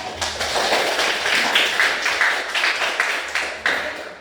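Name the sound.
children clapping hands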